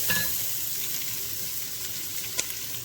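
Cajun-style cabbage sauce cooking in a pan, a steady close sizzle and bubbling hiss throughout with one brief clink near the end.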